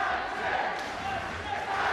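Boxing-match crowd in West Yorkshire roaring and shouting, a continuous loud wash of voices filling the venue, with no single voice standing out.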